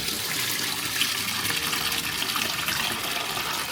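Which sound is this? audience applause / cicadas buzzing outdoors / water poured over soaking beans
water poured over soaking beans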